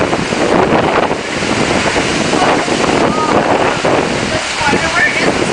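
Hurricane Gustav's wind roars and buffets the microphone in heavy, gusting bursts, with water and surf churning beneath and voices faintly mixed in.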